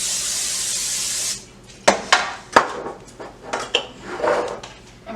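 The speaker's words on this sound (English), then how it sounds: "Now we're going to spray the baking sheet with olive oil spray." Olive oil spray hisses steadily onto a baking sheet for over a second, then stops and is followed by several sharp clanks and clatters of the pan and kitchenware.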